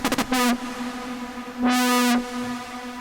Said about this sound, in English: some distortion, you know?